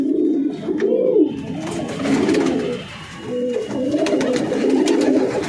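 Pigeons cooing close by in a pigeon loft, several soft, rolling throaty coos repeating in overlapping waves, with faint background rustling and no speech.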